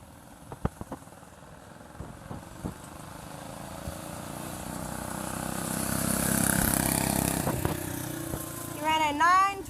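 A vintage go-kart or minibike engine runs on race gas with a muffler, building from a distance into a loud drone that peaks and fades, with a short voice near the end.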